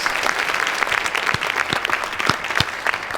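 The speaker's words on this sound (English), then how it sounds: "Let's give some applause real quick." Audience applause at a live discussion event, steady dense clapping from a crowd lasting the whole moment, fairly close and even, with a few sharper individual claps standing out.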